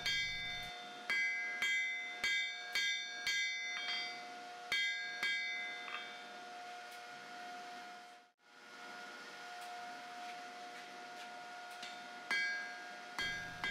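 Steel tang being forged with a square-face hammer on an anvil: a run of sharp ringing metallic strikes in a steady rhythm, then a pause with a lingering ring, and a few more blows at the end.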